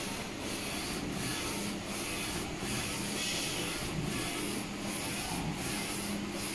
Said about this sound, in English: the Focus Alpha Jet UV printer printed with vivid, amazing color, white color varnish, and one pass print.